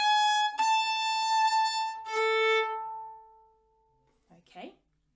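A string instrument plays a short practice pattern of a few bright, clear notes that ends on a long, ringing open A, followed by a brief spoken word.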